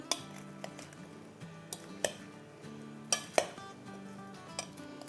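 Vegetable pickle being stirred in a pan, a spoon scraping and clinking against the metal in scattered taps over a soft steady sizzle, close and fairly quiet.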